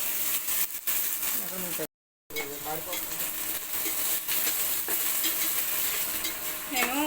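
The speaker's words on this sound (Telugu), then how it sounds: "అన్నీ వేసుకుని ఒకసారి మిక్స్ చేసేసుకోండి" Chicken biryani ingredients are stirred and mixed in a sizzling pot, with repeated scraping strokes over steady frying hiss and a brief dropout partway through.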